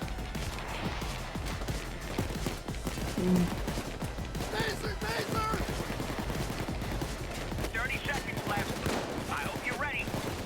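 Rapid gunfire in Payday 2 rattles almost continuously in dense bursts during a heist, mixed with crashes and a busy, noisy backdrop. Voices can be heard faintly underneath.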